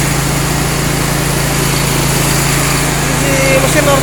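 A small generator engine that has just started runs with a steady, loud, high-pitched drone and a constant hum, with no speech over it.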